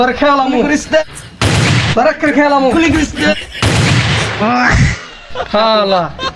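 Two loud, sharp bursts of gunfire cut through animated, excited talking, each blast short and close before the voices resume.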